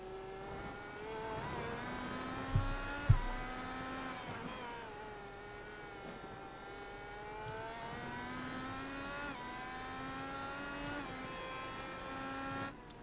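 Several IndyCar IR-18 race cars in a video game at Road America scream past together, their engine notes climbing in repeated upshift sweeps over a dense, steady roar, with two sharp thumps early on and no talking.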